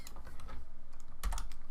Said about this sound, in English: So I'm just typing in the cell range with a colon separating the start and end cells